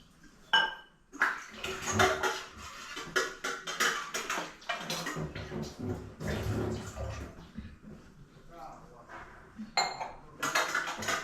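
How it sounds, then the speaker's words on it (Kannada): Pots and utensils being washed with water in a home kitchen, with irregular metallic clanks and clinks of dishes knocking together over running and splashing water, fairly close. "ನೀರು ಹಾಕಿ ನೀರೆಲ್ಲ ತೊಳಿ ಅಂತ"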